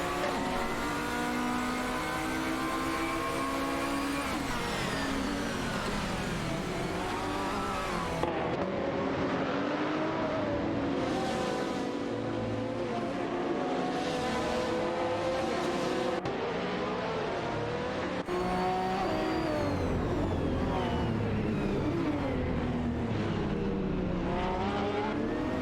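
Video game race cars, a Dodge Viper and a Ferrari, with engines revving and rising and falling in pitch as they accelerate and pass, loud and continuous throughout, no voices.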